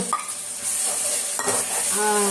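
Ground masala of pepper, cumin and fennel frying in plenty of oil for egg kuzhambu, a loud close sizzle with stirring scrapes and a brief clink of utensils, no voices.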